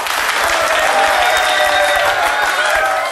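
A live audience claps steadily in a dense, loud, even burst of applause that fills the short stretch without pause, with no clear talk over it.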